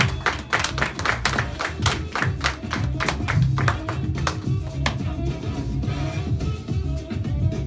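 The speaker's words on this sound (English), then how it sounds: "Let's give her one more round of applause." An audience at a Mother's Day celebration applauds, a burst of scattered hand claps that thins out and gives way to a low murmur of voices.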